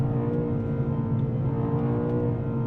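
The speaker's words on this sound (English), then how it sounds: "we're right at the top of the rev limiter now" BMW M8 Competition engine held at the rev limiter, a steady, dense droning moan with strong low harmonics, sustained and loud without letup.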